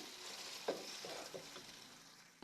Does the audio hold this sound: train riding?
no